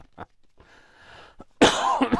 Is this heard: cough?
yes